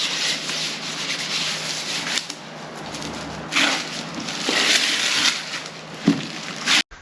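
Orange oil being rubbed by hand into a wooden cutting board, a close, steady swishing and scrubbing in several strokes with brief pauses between passes, no talking.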